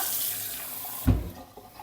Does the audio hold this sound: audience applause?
no